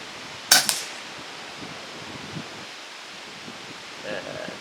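Stiff wind at an outdoor air-rifle shooting range, a steady rustling wash of gusts and microphone buffeting with a sharp knock near the start, no talk.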